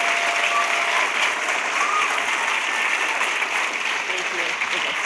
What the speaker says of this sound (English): one final round of applause for Rachel Giese and Abbi